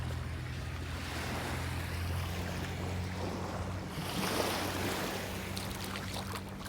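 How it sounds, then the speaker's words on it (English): Surf washes onto a small beach at Ilha do Frade, Brazil, in a continuous broad rushing roar mixed with wind, steady and fairly loud throughout. "We're on the beach on Christmas Day here in Brazil."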